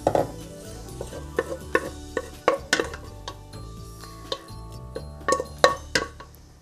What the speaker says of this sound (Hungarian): A szalonnákat megpirítottam, ezután kiveszem a lábasból.